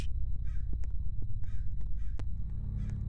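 Crows cawing in the Roblox game Head Horse, a run of harsh repeated caws close and loud over a low steady game hum, several calls in quick succession.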